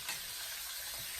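Steaks just flipped in a hot pan, hissing in a faint, steady sizzle for a moment with no voices.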